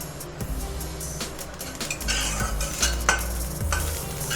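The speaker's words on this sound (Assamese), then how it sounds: "কেৰাহীত অলপ रोस्ट কৰি লম" Black sesame seeds dry-roast in a kadai, with repeated scraping strokes of a stirring spoon against the metal over a soft, steady sizzle and light crackle at close range.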